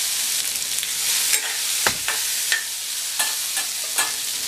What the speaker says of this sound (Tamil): வடிகட்டி வச்ச கடலைப்பருப்பை சேர்த்துடலாம்.